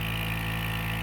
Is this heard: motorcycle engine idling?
yes